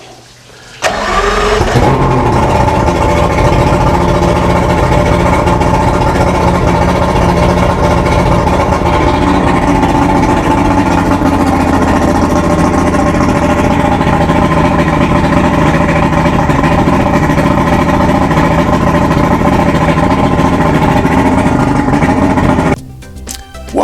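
A Yamaha HPDI outboard boat engine, 22 years old, cranks briefly, catches, and settles into a steady loud idle that runs for about twenty seconds before cutting off.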